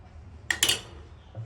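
A small metal spoon clinks and scrapes twice in quick succession against a plate while shaping ragi (finger millet) dough, two short close bursts in a quiet kitchen.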